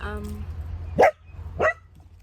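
Dogs bark twice in quick succession, sharp and fairly close, after a moment of voice and background hum.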